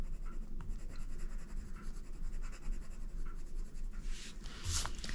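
Steady, soft scratching of a colored pencil moving across paper, layering continuous strokes with a few brighter scrapes near the end, close up and unaccompanied by voices.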